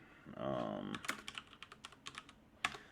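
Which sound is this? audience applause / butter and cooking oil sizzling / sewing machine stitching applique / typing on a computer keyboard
typing on a computer keyboard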